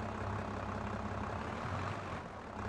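A rough, unhappy vehicle engine with a sticky accelerator in Farming Simulator runs steadily close by, a heavy low droning idle with a coarse, uneven texture and no talking.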